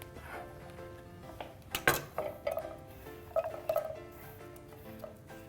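Chopped vegetables for a wrap are scooped by hand into a frying pan, giving a few sharp clinks and soft knocks against the pan at close range, scattered over a quiet kitchen background.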